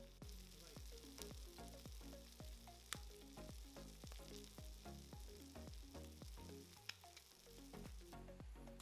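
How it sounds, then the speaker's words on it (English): Shrimp scampi cooking in a pan with parsley added, giving a steady close sizzle and frying crackle broken by repeated low scraping stir strokes and a couple of sharp clinks, with no talking. "Let the shrimp cook for another like 30 seconds and let it really evaporate the juice."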